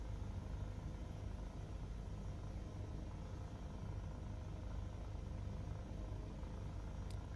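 An HPG H160 helicopter in a VR flight simulator drones with a steady, even rotor and engine rumble, constant and unbroken, heard alone with no voices.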